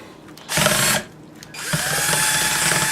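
A cordless drill fitted with a mixer beater whirs in two bursts, a short spin, a pause, then a longer steady run with a faint whining rattle from the beater, mashing potatoes.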